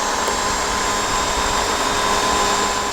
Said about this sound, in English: All right, Lorenzo, go ahead and turn the vacuum on.